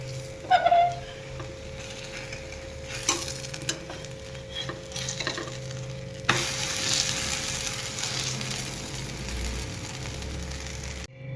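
Fasting thalipeeth flatbread frying on a low flame, with a steady soft sizzle, a few clattering knocks early on and a brighter, louder hiss midway, close and without speech.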